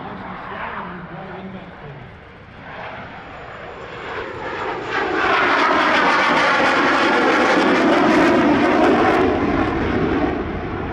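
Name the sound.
RAAF Classic Hornet jet taxiing in to park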